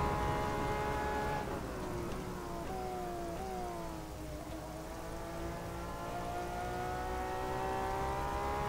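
In the racing video game rFactor 2, steady patter of rain mixed with the droning whine of several GTE racing car engines rising and falling at Road America, continuous and fairly even throughout.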